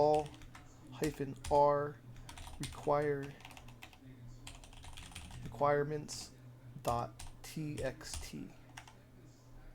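Computer keyboard keys tapped in quick bursts to enter a pip install command during a manual ComfyUI setup, clicking faintly beneath a man's steady spoken instructions.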